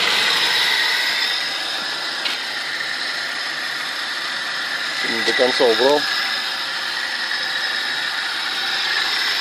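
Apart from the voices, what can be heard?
cold Audi 100 2.3 carburetor engine running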